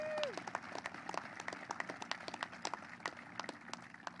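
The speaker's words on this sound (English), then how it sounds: "Another round of applause." A crowd at a military commissioning ceremony claps in scattered, lively applause after a short whistle rings out at the start, the claps continuing steadily throughout.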